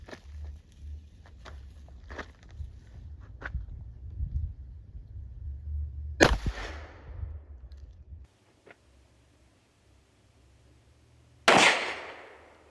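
Two sharp, loud cracks from a Charter Arms 2-inch-barrel .38 Special revolver firing full metal jacket rounds ring out several seconds apart, each decaying quickly, over quiet background shuffling.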